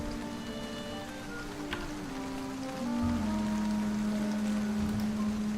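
Rain falls in the video game Face Noir, a steady soft patter under sustained tonal game music that shifts pitch partway through and grows slightly louder.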